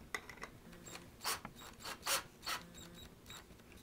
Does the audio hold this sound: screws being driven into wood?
yes